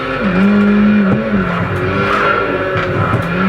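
Loud, steady racing car engine drone in Project Gotham Racing 2, pitch shifting slightly as it revs, with brief tire squeal touches.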